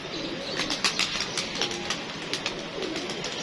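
Soft pigeon coos and murmurs repeat in a steady outdoor bird chorus, with occasional brief chirps and a faint flutter of wings.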